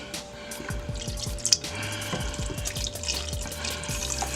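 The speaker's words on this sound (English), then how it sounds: "About a half a cup of beef broth. I'm gonna just put it all in there." Beef broth poured into a Power Pressure Cooker XL, a close liquid splashing and dribbling with irregular drips and a faint steady tone underneath, no talk.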